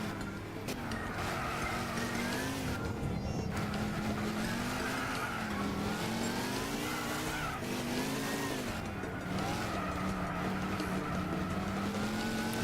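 A Ford Mustang races in Gran Turismo 6 with bad tires, its engine holding a steady, loud drone that rises and falls in pitch through shifts, joined by stretches of tire squeal as it corners, with no talking.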